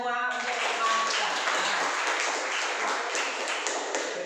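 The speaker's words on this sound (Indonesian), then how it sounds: "Kasih tepuk tangan buat kita semua untuk semangat." A group claps hands together in a classroom, a dense continuous wash of applause that starts abruptly and holds steady at close range.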